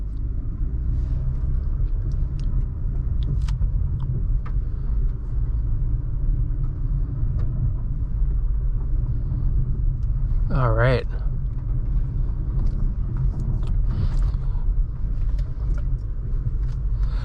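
A 2023 Acura TLX Type S in sport mode drives on the road, its low cabin rumble and road roar constant beneath someone talking, with a brief rising engine note partway through.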